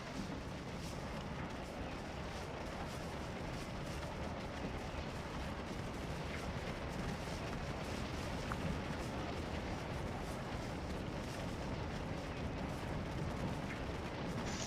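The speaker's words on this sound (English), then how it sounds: "Thick firefight." Musket firefight from the Civil War video game Scourge of War: Gettysburg, a dense, continuous roar of volleys and scattered shots with no pauses, steady and loud throughout.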